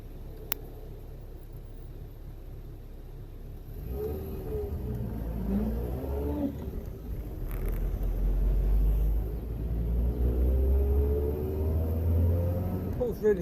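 Reliant Kitten DL car idling and then pulling away cleanly on base carburetor settings, a steady low engine rumble that rises and builds from about four seconds on, with a voice talking over it.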